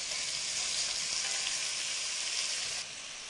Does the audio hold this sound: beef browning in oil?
yes